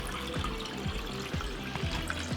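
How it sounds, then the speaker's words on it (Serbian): Water pours steadily into a cooking pot lined with a cloth on the bottom, where glass jars of tomatoes sit ready for pasteurizing; a continuous close rushing splash with no voices. "U jednu šerpu stavila sam na dno krpu da tegle ne bi šetale, da se ne bi sudarale i sada ćemo naliti sa vodom."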